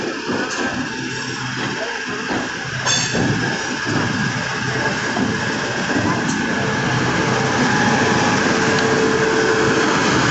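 A train stands at a railway platform, the Garib Rath Express bound from Hazrat Nizamuddin to Bandra Terminus, giving off a steady, loud rumbling hum with faint metallic clicks over a continuous station din.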